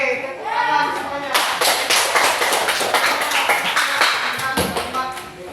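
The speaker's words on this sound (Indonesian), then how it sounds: "Oke, tepuk tangan semuanya." A classroom group claps together after a teacher's prompt, a dense burst of many hands that starts about a second in and keeps going steadily, with some voices mixed in.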